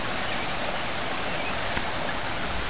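A rural Arkansas creek running high after torrential rains, a continuous broadband rushing roar of fast water, steady and fairly loud.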